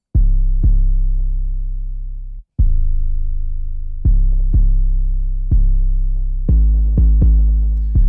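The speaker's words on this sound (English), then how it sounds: "this is what the bass sounds like" An 808 bass line in a hip-hop beat plays alone: deep, loud sustained sub-bass notes that hit and decay, with a short gap before the pattern resumes and quicker repeated hits near the end.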